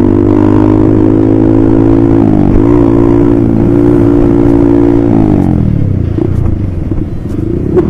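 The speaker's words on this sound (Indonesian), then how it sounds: "Oke, kita sekarang main knalpot aja." A motorcycle exhaust in racing mode revs loudly and close, a steady throbbing drone that dips and rises twice, then settles into a rougher, lower idle with crackle.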